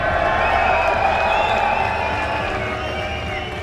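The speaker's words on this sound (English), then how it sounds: "Let me hear you make some noise if you're cheering on Europe's Reciprocity." Large esports crowd at the CWL London Call of Duty event roaring and cheering for Europe's Reciprocity, a loud, sustained wall of voices that holds steady and eases off slightly toward the end.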